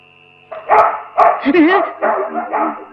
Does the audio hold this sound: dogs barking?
yes